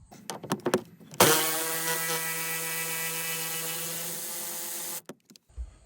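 Power driver or ratchet spinning out a T40 bolt from a long trim bracket near the B pillar of a Ford Bronco, a steady whirring mechanical buzz of about four seconds, preceded by a few close clicks and handling noises.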